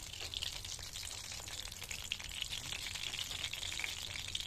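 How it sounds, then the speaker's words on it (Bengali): Fried chicken pieces are lifted out of hot oil in a pan, giving a soft, steady close sizzle and crackle with small bubbling pops throughout and no talk. "তেলটা ঝরিয়ে ঝরিয়ে তুলে নিচ্ছি।"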